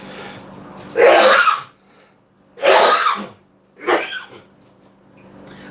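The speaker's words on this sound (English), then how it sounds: "I'm coughing. I'm not sneezing." Three harsh, loud coughs close by, each a separate burst with short pauses between.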